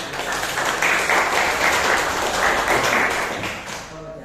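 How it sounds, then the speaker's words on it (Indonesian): A classroom audience applauds after a group presentation, steady dense clapping that holds for about four seconds and then tapers off. "Tepuk tangan untuk kelompok satu."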